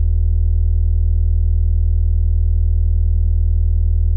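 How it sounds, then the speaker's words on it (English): A steady, low 80 hertz sine wave tone holds without a break, deep and constant with a slightly buzzy edge. "So there's the 80 hertz, right?"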